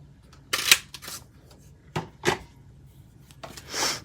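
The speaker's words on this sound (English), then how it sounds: "take the classic label punch and cut out the greeting" A classic label punch cutting out a paper greeting, a few sharp crunching punches and paper rustles spaced apart, close and quiet, with no talking.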